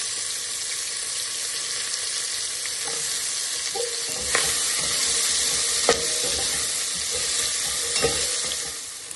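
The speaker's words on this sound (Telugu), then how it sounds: "దీంట్లోనే ఇప్పుడు పచ్చిమిర్చి, వెల్లుల్లి, ఇది వేస్తున్నాను, ఆనియన్." Green chilies, garlic and onion fry in a hot pan, giving a steady loud sizzle with several sharp stirring scrapes and clinks spread across the stretch. There is no talking.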